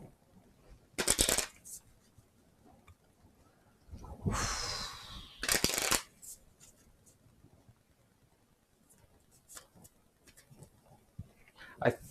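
A deck of cards gets shuffled in a few short, loud riffling bursts separated by quiet pauses, with people talking faintly around the table.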